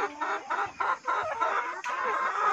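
Chickens at a small poultry farm in Leyte cluck close by, a dense run of overlapping clucks and calls with no talking.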